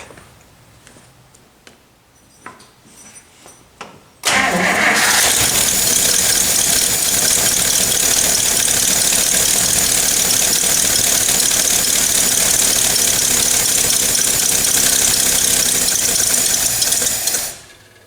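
A 1957 Chrysler engine cranks and catches abruptly, then settles into a loud, steady idle with a ticking, slightly rough rhythm that runs until it cuts off near the end.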